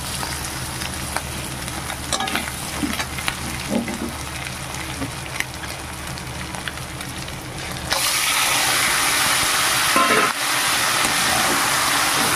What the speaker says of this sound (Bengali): এবার আমি শাকটাকে ঢেলে দেবো।